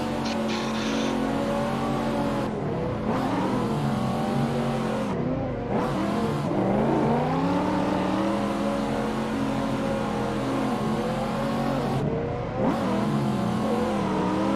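Cars drifting and revving in a driving video game, part of a street car pack with Corvettes among them. Loud, continuous engine roar rises and falls with repeated revs and tire noise, with no talk over it.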